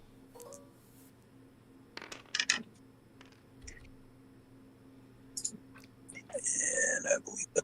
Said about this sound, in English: Two dice into the trench.